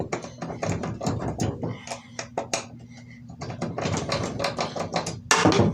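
A socket wrench loosens a stuck blade on an MTD lawn mower deck, giving rapid close ratcheting clicks and metallic taps in uneven bursts, with someone talking.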